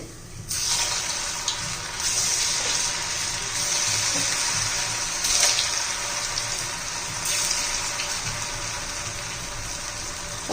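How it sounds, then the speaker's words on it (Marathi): Rava medu vada fry in hot oil over a high flame, giving a continuous hissing sizzle with a few brief louder crackles. "हाय फ्लेमवर आपले हे सर्व वडे तळून घ्यायचे आहेत"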